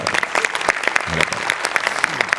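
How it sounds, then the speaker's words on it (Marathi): Applause from a comedy-show audience for a sketch writer: bright, crowded clapping throughout, with some voices and cheers mixed in. "याच्यात तुझ्या लेखकासाठी जोरदार टाळ्या एकदा."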